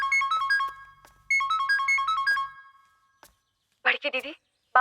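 A mobile phone's melodic ringtone plays an incoming call in a quiet indoor scene, ringing clearly in two bursts of bright repeating notes before stopping, then a voice speaks.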